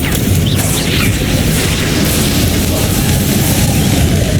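A Bombarda blasting spell detonates in Hogwarts Legacy, a loud, continuous booming roar of explosive rumble and crackling debris that fills the whole stretch without pause.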